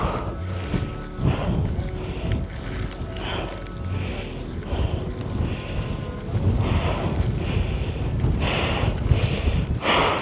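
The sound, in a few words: strong wind blowing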